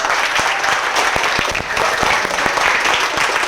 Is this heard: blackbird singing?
no